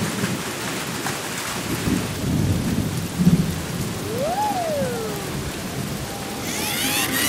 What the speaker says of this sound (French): c'est un ouragan